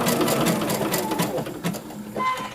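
Sewing machine fitted with a wing needle stitching steadily around a curve for heirloom work, a continuous close mechanical whir and rapid needle patter with slight shifts in pace.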